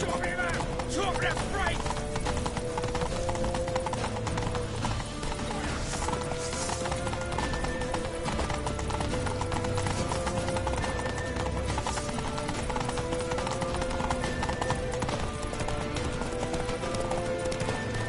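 A horse gallops with a fast, steady clip-clop of hooves in a Viking video game, running under a dense, constant wash of game music and ambient noise, with an occasional neigh.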